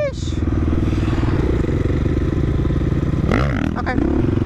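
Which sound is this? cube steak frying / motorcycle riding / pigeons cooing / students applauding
motorcycle riding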